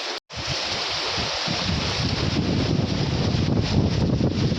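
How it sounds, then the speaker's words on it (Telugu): Strong storm wind roars in a loud, continuous rush of gusts around a home during heavy rain and thunder, steady throughout after a brief dropout at the start, with no one talking. "ఇగో గాలి చూడు ఎట్లా వస్తుందో"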